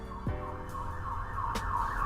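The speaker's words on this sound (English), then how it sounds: "let's just wait for the siren to go past" A siren wails faintly in the distance over steady low traffic rumble, rising and falling as it passes.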